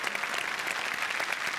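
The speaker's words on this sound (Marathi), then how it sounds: "सुप्रिया पाठारे यांच्यासाठी जोरदार टाळ्या" Applause for Supriya Pathare rises from an audience at a Marathi film event as the cast is welcomed, a steady, fairly faint wash of clapping with no break.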